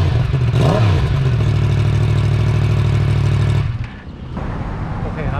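A loud, steady Yamaha MT-10 crossplane multi-cylinder motorcycle engine, the same engine as the R1, idling with a deep rumble, a brief rev near the start, then a sudden drop as the throttle closes.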